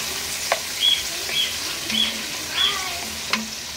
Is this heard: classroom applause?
no